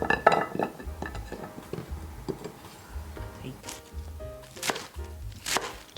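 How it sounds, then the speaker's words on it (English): A knife chops kabocha squash into small pieces on a cutting board, giving a series of close, irregular thuds and clicks over several seconds, with faint background kitchen noise. "Just roughly chop them into small pieces."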